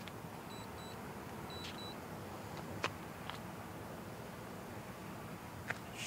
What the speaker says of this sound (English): you're hearing this beeping right here? It's because my drone almost got lost.